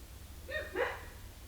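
A couple of short dog barks, moderately close, standing out briefly over a low steady background hum.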